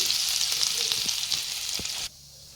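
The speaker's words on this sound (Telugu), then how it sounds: "తర్వాత తురుము చేసి పెట్టుకున్న కోకోనట్ని నేతిలో వేయించుకోండి." Grated coconut frying in ghee gives a steady, bright sizzle at close range that cuts off abruptly near the end, with no talking.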